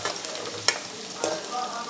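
Soybean chunks frying in a pan with a steady faint sizzle, broken by a couple of quick scraping stirs from a spoon, heard close and alone without talk.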